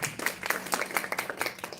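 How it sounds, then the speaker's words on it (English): An audience at a life coaching course session claps for itself in a quick, dense patter of many hands, fairly quiet and slightly distant, with no talking over it. "Please clap for yourself."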